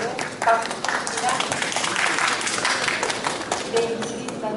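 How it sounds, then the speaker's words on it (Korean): Audience applause at a 3D printing business competition during an expo in Gumi, a steady wash of clapping lasting several seconds with some talk mixed in. "박수입니다."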